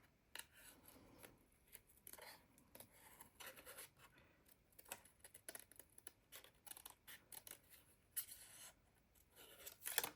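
Scissors fussy cut around a card as it is turned, a string of faint, close snips and papery rasps, with no voices.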